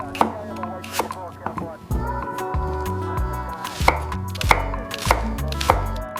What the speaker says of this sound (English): finely chop or shred all the vegetables